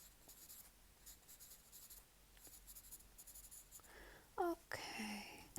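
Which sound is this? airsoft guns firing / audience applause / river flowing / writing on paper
writing on paper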